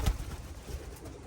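Racing pigeons coo softly in a loft, a few low murmuring calls near the microphone with faint rustling in the background.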